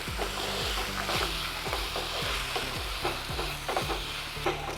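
Ginger garlic paste frying in a pan for paneer masala, a steady close sizzle broken by repeated rhythmic stirring scrapes, with no voices.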